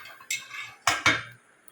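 Dishes and cutlery clatter as they are handled near a dishwasher: a few sharp metallic clinks and knocks, close and distinct, with quiet pauses between them and no talking.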